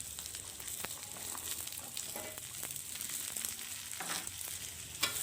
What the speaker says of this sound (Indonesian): Kemudian sekarang saya tuang buncisnya. Masukkan semua buncisnya.